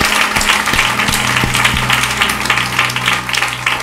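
A church congregation applauding during a worship service, a dense, steady wash of clapping from many hands, loud and continuous throughout, with a few sharper taps standing out.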